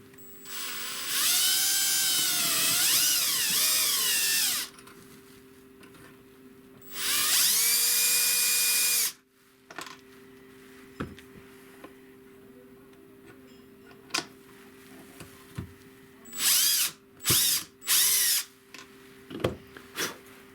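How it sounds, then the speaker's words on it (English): A power drill bores a hole through a broken dishwasher cutlery tray axle, two loud sustained whirring runs with pitch changes, followed by short clicks and brief bursts of the drill. "I used a knife to trim off the end of what was left and then drilled a hole all the way through from the back side."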